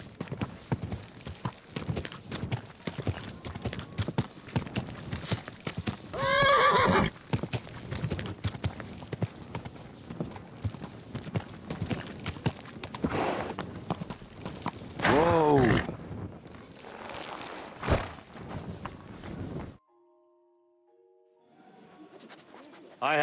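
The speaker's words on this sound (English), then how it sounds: "Calma, cavalo, porra." Horse hooves clip-clopping steadily in the medieval role-playing game Kingdom Come: Deliverance II, with a couple of short neighs and snorts rising above the rhythmic footfalls before the sound cuts to near silence.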